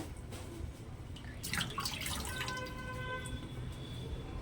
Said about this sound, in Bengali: এই দেখো বাবা পরিষ্কার করে ইলিশগুলোকে ধুয়ে নিচ্ছে